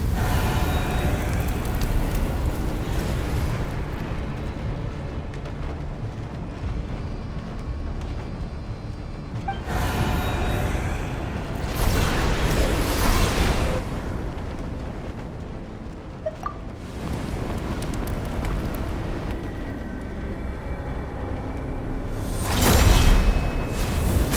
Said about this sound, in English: Oh no! There's a fire!